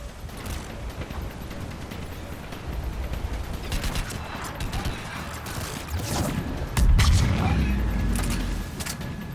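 Gunfire in a Mass Effect 3 enemy firefight: a sustained, dense volley of shots with a heavier burst near the end, mixed under game effects and voices talking.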